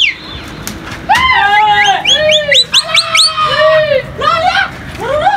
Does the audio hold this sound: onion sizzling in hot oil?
no